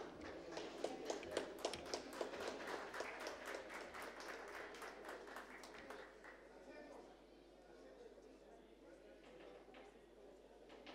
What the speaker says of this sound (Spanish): Recibámoslo con un fuerte voto de aplausos